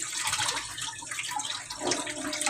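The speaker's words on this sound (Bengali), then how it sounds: "চালটা ধুয়ে নিই, পাতিলটা ধুয়ে বসায় দিলাম।" Rice is rinsed in water for khichuri, giving a short, close, continuous splashing and sloshing of water with no talk.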